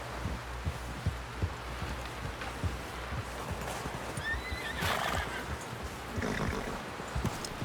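A horse in the video game Red Dead Redemption 2 neighs and whinnies loudly over a steady rhythmic clip-clop of hooves, with a background ambient rumble.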